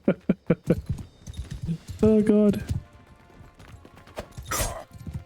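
Horse hooves in Mount and Blade 2: Bannerlord clop in a fast, even rhythm up close. A man's brief exclamation and a few scattered clatters follow.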